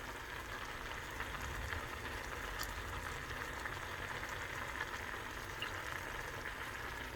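Risotto rice simmering in broth in a pan while being stirred, a steady soft bubbling and sizzling hiss that continues evenly throughout, with no voices.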